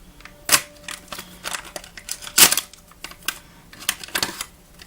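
Plastic packaging crinkles and clicks as a Gudetama Beauty Blender is opened, producing a series of sharp, irregular snaps and rustles close by with short quiet gaps between them.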